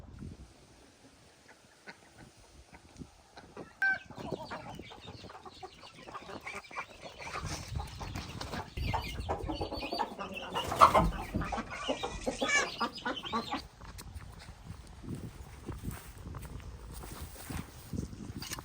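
Chickens clucking on a homestead: repeated soft clucks and scattered calls at moderate distance, building in busyness toward the middle and then easing, with no voices.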